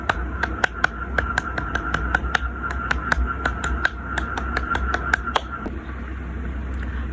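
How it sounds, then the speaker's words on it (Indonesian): Scout clapping rhythm performed by hand, a patterned series of sharp, crisp claps in quick groups and pauses, close and distinct over a low steady hum, ending with a quieter stretch. "Untuk tepuk pramuka berbunyi seperti ini."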